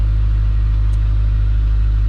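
A sailboat's engine running in rough Arctic seas while under hydrovane and genoa, a steady close low rumble that drones on without a break.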